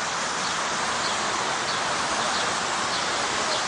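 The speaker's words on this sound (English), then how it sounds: "That noise you're hearing is a sprinkler." A lawn sprinkler runs in a park, giving off a steady, even hiss of spraying water. It stays unchanged for several seconds at moderate loudness, with no talk.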